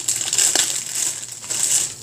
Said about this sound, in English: we'll go ahead and throw this away in our little plastic bag in my trash